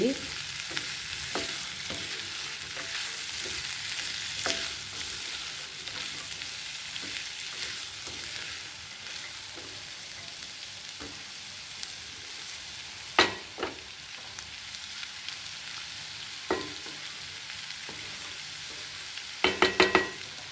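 Aloo mutter bhaji with coriander stir-fried in a pan, a steady soft sizzle with scattered scraping clicks of a spoon and a few louder knocks near the end, no voices.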